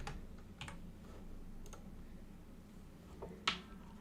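Keys tap on a computer keyboard in a few sparse, quiet clicks over a low room hum, ending with one sharper keystroke, and no one talks.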